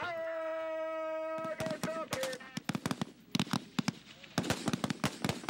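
Rifle fire on a Marine Corps firing range: after a sustained tone, a rapid, irregular barrage of sharp, loud gunshots cracks out close by, overlapping and continuing throughout.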